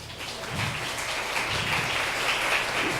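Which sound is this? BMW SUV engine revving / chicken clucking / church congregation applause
church congregation applause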